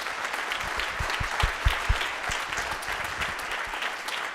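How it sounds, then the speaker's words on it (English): An audience at an evening school jazz and symphonic band concert applauds warmly, a dense, steady clapping from many hands that holds throughout at moderate volume. "So one more round of applause."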